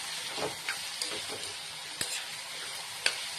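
Vegetables and rice fry in a pan for homemade fried rice with French beans, a continuous bright sizzle broken by several sharp scraping clicks as the food is stirred.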